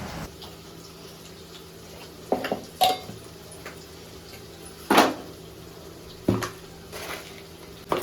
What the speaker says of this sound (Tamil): இப்போ அதை நல்லா மிக்ஸ் பண்ணிங்க.